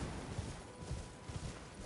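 Horse hooves clip-clopping in the video game Elden Ring, a faint, regular trot of muffled thuds under a steady hiss of game ambience.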